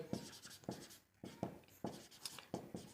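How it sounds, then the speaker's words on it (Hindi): Pen writing on paper during a Class 10 maths lesson, heard as repeated scratchy strokes in short bursts with a brief pause, close and fairly quiet, with no talk. "जैकब 5 वर्ष पूर्व लिखेंगे"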